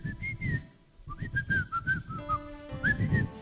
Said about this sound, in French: Asobeta siffler.